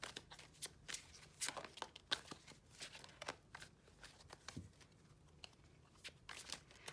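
A tarot card deck being shuffled, a rapid run of crisp riffling snaps and soft card slaps repeating close by with no talking.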